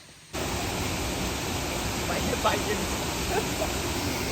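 Ranir waterfall near Bandarduba waterfall roars close by as a steady, broadband rush of falling water that starts suddenly and continues evenly, with faint voices beneath.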